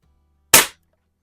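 A single sharp crack from a Barra 1866 .177 multi-pump air rifle fired at a paintball target in a garage, close and loud, fading quickly into silence.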